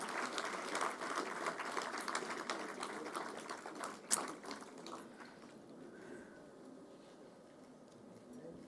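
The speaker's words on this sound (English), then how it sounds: "A round of applause, ladies and gentlemen." Audience applause at a conference fills the first five seconds as dense, steady clapping with one sharp clap near the middle, then fades into quieter room murmur.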